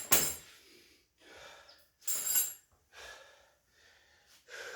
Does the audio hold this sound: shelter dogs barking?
no